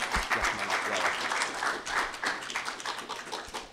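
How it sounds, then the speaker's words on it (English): An audience at a panel discussion on California's November 2014 water bond and rainy day fund ballot measures applauds a state senator, with steady, dense clapping that holds throughout. "If we could have a round of applause for Senator Wolk."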